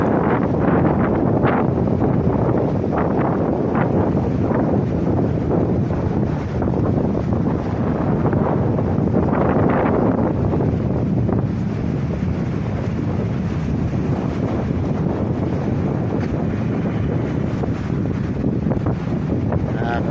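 Strong wind in Ilagan buffets the microphone in a continuous roar, gusting harder in places, with no clear speech over it.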